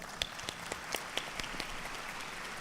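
Scattered, fairly faint applause from an audience at a science event for students, with a few distinct claps standing out over a steady background hiss and murmur.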